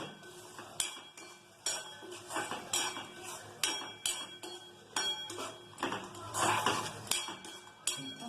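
A spoon scrapes and clinks against a pan while spiced tamarind rice paste with salt, chilli and turmeric is stirred. The strokes come in repeated, uneven metallic taps and scrapes, close and fairly quiet, with no voices.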